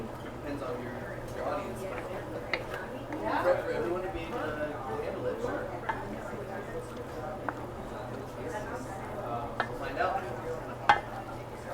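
A chicken stew with ginger gets stirred in a pot, producing soft scraping and a faint sizzle under a low steady hum. Someone talks over it, and a few light clinks stand out.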